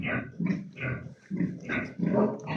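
Pigs being driven through a small barn give repeated loud grunts and squeals in rhythmic bursts of about half a second, close by, with no talk.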